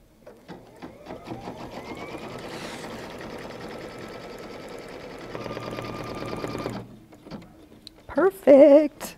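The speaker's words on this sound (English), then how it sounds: "So we'll stitch this" A sewing machine stitches through patriotic puff foam in a steady, close, continuous whir that speeds up partway through and then stops, followed by a few short higher-pitched mechanical chirps.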